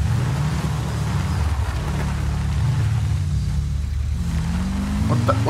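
A dirt bike engine drones steadily in Grand Theft Auto V with the LSPDFR police mod, a low continuous hum close by that rises in pitch as it revs near the end.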